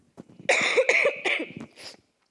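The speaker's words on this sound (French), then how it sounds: "ça fait 2 semaines que je tousse" A woman pastor who has had a cough for two weeks coughs several times in quick succession during a sermon, close and fairly loud in a quiet room.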